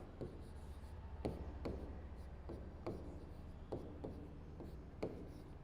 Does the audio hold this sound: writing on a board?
yes